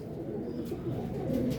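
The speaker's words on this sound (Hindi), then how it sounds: "ये देखें कबूतर कमगर कबूतर गोल्डरों में से निकला है" Soft, low cooing from a Kasuri Golden Kamagar pigeon sounds close by, faint and brief, with a hushed background.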